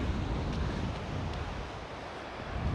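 Gentle water laps and washes around feet dipped into a lake in the Lake District, a soft steady wash mixed with wind noise and no voices.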